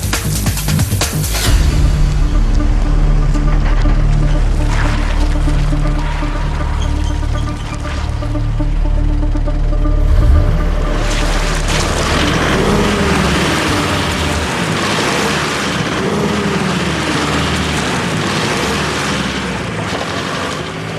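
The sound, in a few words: model train wheels spinning on slippery track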